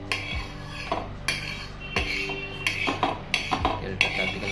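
A spatula or utensil scrapes and taps around a very hot frying pan over low gas while oil is spread across its surface, giving repeated metallic clinks and scraping strokes at close range, with no talking.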